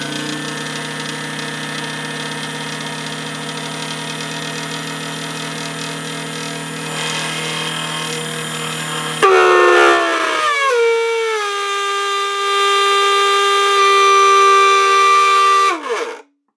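An H9 Klaxon-type motor horn runs with a steady electric whine, then sounds a loud, harsh blaring tone that wavers briefly, holds, and winds down abruptly at the end.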